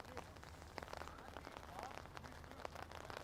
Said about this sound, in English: the rain's still coming down here with a decent amount of intensity